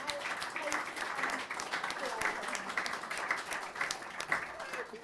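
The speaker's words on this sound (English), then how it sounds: "have a round of applause for our" Round of applause from an audience at a talk, moderate steady clapping with crowd voices mixed in underneath throughout.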